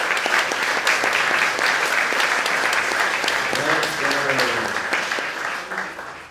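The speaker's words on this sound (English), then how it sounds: "Can we get a round of applause for them?" A conference crowd at BTCPay Day 2024 in Riga gives a loud, continuous round of applause, with a voice briefly speaking over the clapping midway before it tapers off.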